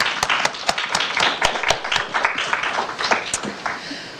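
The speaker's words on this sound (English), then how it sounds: "Let's give a separate round of applause to Julia." Audience at a Tabula Poetica 2022 poetry reading applauding, a modest crowd whose individual claps stand out as sharp, distinct strikes within a lighter, uneven patter.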